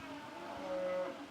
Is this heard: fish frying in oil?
no